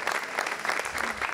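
A crowd at a Hungarian beauty pageant bursts into loud, dense applause, many hands clapping together in a continuous roar with no pauses.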